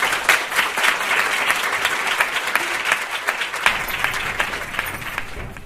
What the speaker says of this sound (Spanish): Voy a pedir un fuerte aplauso para poder empezar.